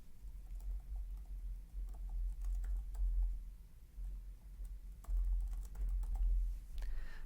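Typing on a computer keyboard while a therapist's name is entered into a contacts application, with steady soft key clicks in irregular bursts, close and alone with no talk.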